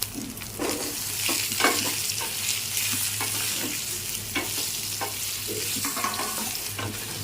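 A spoon stirs sweetcorn batter in a hot pan for steamed sweetcorn kudumu, giving a steady soft sizzle with repeated scraping strokes, fairly quiet and close, with no talking.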